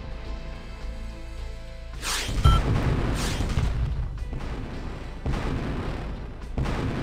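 Explosions from destroyed vehicles in the strategy game Outpost 2: a series of loud, rumbling booms and blasts, starting around the two-second mark and recurring in dense overlapping bursts with gunfire-like cracks, no talking.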